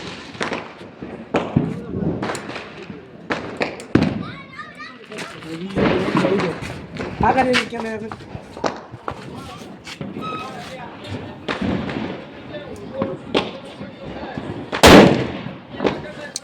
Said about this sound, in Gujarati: મિત્રો આપણે આ એક નાનો બોમ્બ ફોડી છે